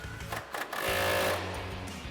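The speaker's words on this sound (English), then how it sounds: "Our 18mm socket on our impact." An impact wrench with an 18mm socket runs a short whirring, rattling burst, tightening a nut on the rear control arm of a 1979-2004 Ford Mustang, close and fairly quiet with no speech.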